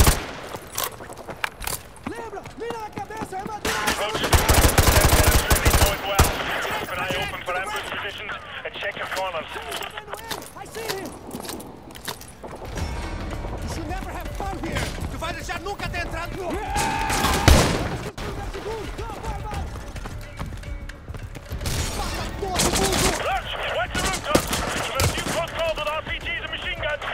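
Video game gunfire from Call of Duty Modern Warfare 2 Remastered, with bursts of shots rattling throughout and rising in intensity at times, mixed with game sounds and radio-style voices talking over the action.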